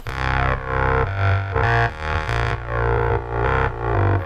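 Music time-stretched in Ableton's Tones mode plays with a warbly, distorted, chorus-like tone, its pulsing beats smeared into wavering, metallic sustained tones.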